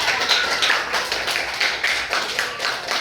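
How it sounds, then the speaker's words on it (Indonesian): A primary school class claps for a pupil, a short burst of light, rapid hand claps from a group in a classroom, fairly close and moderately loud. "tepuk tangan dulu untuk si Amel"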